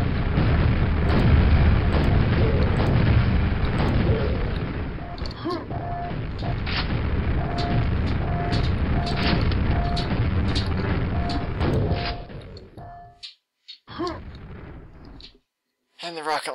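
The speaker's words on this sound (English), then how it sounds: "I have a rocket launcher." Rocket launcher blasts and explosions in the video game Quake: dense, loud booming combat with repeated tonal pings, fading into scattered bursts and silences near the end, with a voice talking over it.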